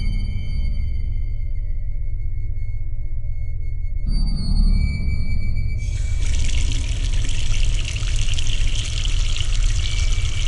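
Cartoon tap water in a house in a Bengali horror cartoon, a steady hissing stream that gushes louder and brighter after a few seconds, running continuously without any talk.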